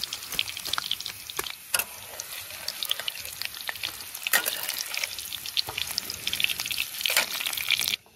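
Potatoes frying in oil in a wok at a beach campsite give a close, steady sizzle packed with sharp crackles and pops that keeps going throughout.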